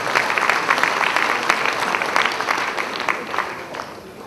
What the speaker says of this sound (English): I think that calls for a round of applause, yeah?